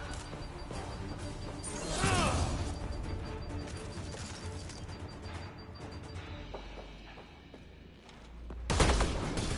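Heavy gunfire in the Mass Effect: Andromeda video game, with bursts of shots and crashing impacts, a loud volley near the start and another near the end over a rumbling battle background.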